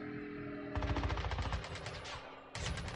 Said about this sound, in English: I think I hear gunshots